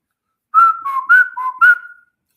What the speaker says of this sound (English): I am whistling.